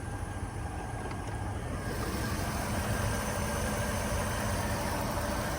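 A 2007 Mercedes-Benz SL550 V8 idles with the hood open, a low steady rumble mixed with broadband hiss, continuous and even throughout, with no voices.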